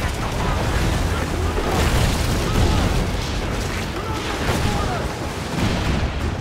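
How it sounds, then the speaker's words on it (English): Chain shot cannon fire at sea in the Assassin's Creed IV Black Flag video game: dense, continuous booming and crackling gunfire layered under battle noise, loud and sustained across the whole stretch. "The chain shot is a stun weapon. Hitting ships slows them down."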